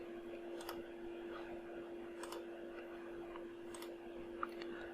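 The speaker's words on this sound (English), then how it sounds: "So now I'm going to press / on my keyboard." A single slash key pressed on a computer keyboard, a faint isolated click over quiet room hiss with no talking.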